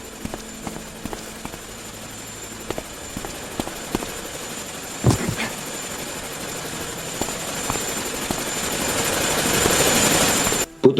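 Helicopter in the Chernobyl Liquidators video game, a steady rotor and engine drone with faint periodic thumps that swells louder toward the end.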